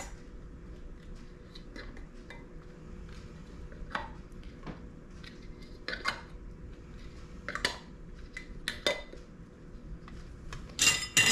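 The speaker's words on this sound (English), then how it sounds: "And then we're going to put on our brand new lids." New metal lids set onto clean, hot canning jars, producing scattered light clinks and taps of metal on glass at close range, sparse at first and quickening toward the end.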